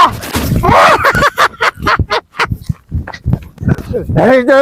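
Dogs bark in a string of sharp, loud, close barks with a whimpering yelp at the end, heard amid people talking.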